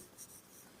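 Pen or pencil scratching out a circle circumference formula during a Class 10 maths lesson: a brief, very faint scribble lasting under a second, with no talk over it.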